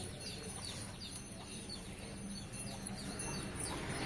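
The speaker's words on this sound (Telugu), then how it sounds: "ఇట్లా వచ్చింది కోళ్ళు" Faint clucks and scattered bird calls over a low, steady background hum, with no voices.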